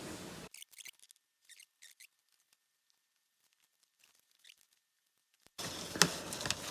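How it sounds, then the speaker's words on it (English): Scissors cutting out small droid stickers for a figure: a few brief, quiet snips and rustles spaced apart in near silence, then a burst of louder handling noise at the end. "I'm just going to get a couple of my droid stickers from a store and cut them out"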